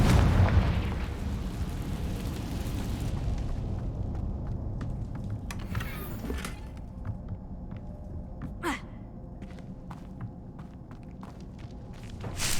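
A Confringo spell blast in Hogwarts Legacy, a loud rumbling explosion at the start that fades into a quieter game ambience scattered with faint impacts and small crackles.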